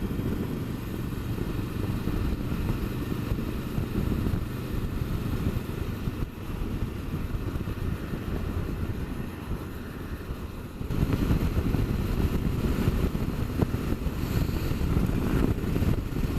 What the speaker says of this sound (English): Just let the bike get up to national speed limits.